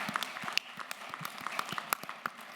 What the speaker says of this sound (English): I really want us to give a round of applause to our panelists.